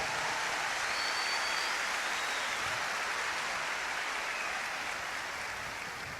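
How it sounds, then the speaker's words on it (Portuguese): Applause from a congregation during a Catholic prayer service led by a priest, a soft, even, distant patter of clapping that stays steady throughout. "pode aplaudir e agradecer a Deus"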